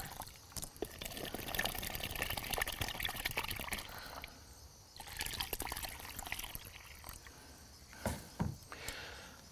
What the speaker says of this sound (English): if we add water to our storm clouds and make it rain on this soil